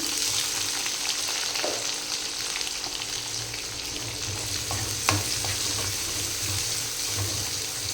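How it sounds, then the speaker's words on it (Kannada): Chopped onions sizzle steadily in a frying pan at a close, even level, with a faint tap of a spoon around the middle and no talking. "ಸಣ್ಣದಾಗಿ ಫ್ರೈ ಆಗ್ಬೇಕು ನೋಡ್ರಿ ಗೈಸ್"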